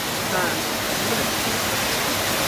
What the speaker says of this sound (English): here you can see the waterfall